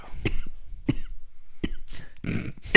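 Several sharp, harsh coughs spaced out with short gaps, close and loud, ending in a rougher cluster of coughing, during a podcast.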